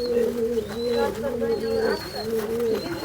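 Pigeons coo in a steady, repeated pattern close by, their low throaty calls layered and overlapping throughout, with a faint higher whistle-like tone drifting in the background.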